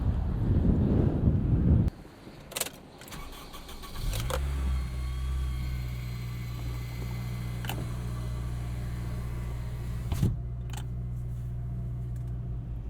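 A 2006 Acura RSX Type S with its 2-liter VTEC four-cylinder and six-speed manual drives along, a steady low engine drone holding throughout after a brief rough, wind-buffeted start, with a few faint clicks and thumps from the cabin.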